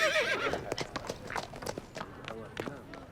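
Horses clip-clop in an uneven run of hoof strikes, with a whinny near the start, amid a busy, moderately loud scene.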